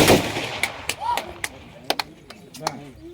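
At a police head constable's funeral, a rifle volley salute opens with one loud sharp crack outdoors, followed by several fainter metallic clicks and knocks of rifles being handled.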